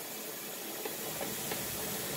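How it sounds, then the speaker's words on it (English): Steam venting from a pressure canner while carrots are being canned, a steady, even hiss with no break from start to finish. "I will let it steam for 10 minutes."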